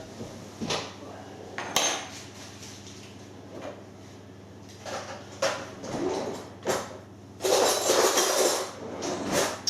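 A metal baking tray being rubbed with margarine to stop rock buns sticking, heard as scattered scrapes and clanks of the tin shifting on a hard surface at close range, with a louder run of rubbing near the end.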